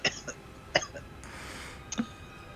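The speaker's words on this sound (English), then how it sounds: "I'm hearing some coughing." A person coughs in a few short, moderately faint bursts spaced apart, with a low hiss of background noise between them.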